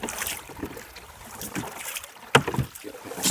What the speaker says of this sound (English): but rowing backwards is a noisy proposition.